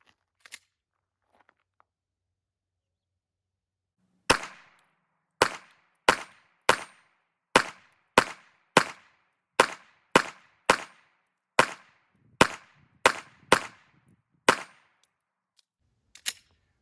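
A Glock 43x or 48 pistol fires about fifteen sharp shots at an outdoor shooting range, spaced roughly half a second apart after a short quiet start, each crack loud and close with a brief tail.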